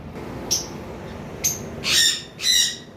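Blue Fischer's lovebirds call in a run of four sharp, shrill bursts: two brief chirps, then two longer raspy squawks close together near the end, with a steady low hum of room noise underneath.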